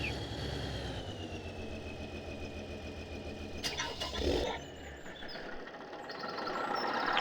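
A tractor engine in the video game Farming Simulator 2013 runs with a steady droning hum that briefly surges, drops, then builds again, fairly faint and without talk.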